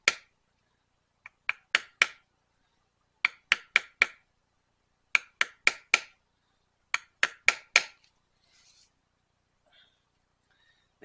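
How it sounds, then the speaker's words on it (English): Sharp taps of a bevel punch struck against leather for a rifle sling, coming in quick clusters of three or four close, crisp hits separated by short pauses, then fading to near silence. "I think I'm going to use this bevel punch."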